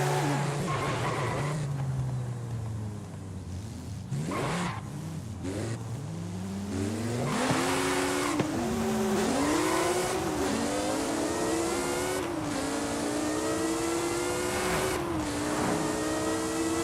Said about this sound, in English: Those downshifts actually sound really good.